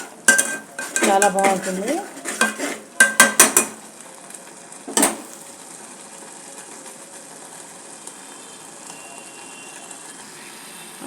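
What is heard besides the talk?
stirring and frying masala in a pan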